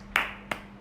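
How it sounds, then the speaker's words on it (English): Three sharp, separate claps ring out at an uneven pace, close and fairly loud, from an audience at a children's storytelling festival, with no voices. "Let's clap for Abdul Mia"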